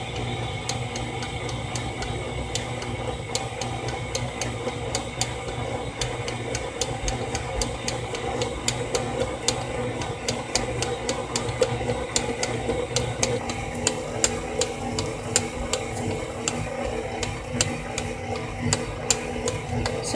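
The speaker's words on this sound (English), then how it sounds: "We'll go ahead and mix it in." An electric mixer works the butter mixture for chocolate chip cookie dough, a steady mechanical whir with a rapid ticking rattle from the beaters that runs evenly and without pause.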